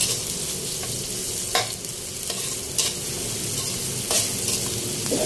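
Garlic sizzles steadily in hot cooking oil for lumpiang hubad, a continuous close frying hiss broken by a few brief scraping stirs, with no voices.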